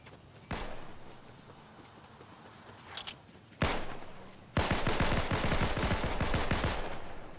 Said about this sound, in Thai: ยิงกันแล้วเหรอ